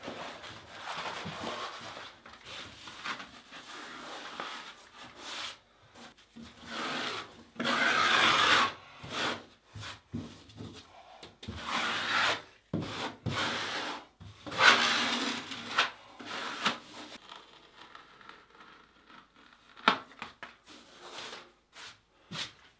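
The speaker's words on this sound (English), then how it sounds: "using a sponge to knock down any of the existing thinset and clean off the existing" A sponge smoothing thinset over Kerdi-Band membrane on a shower wall makes irregular wet rubbing and scrubbing strokes, rising and falling in bursts with short quiet gaps between passes.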